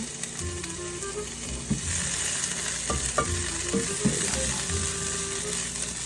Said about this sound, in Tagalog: So, sibuyas, bawang.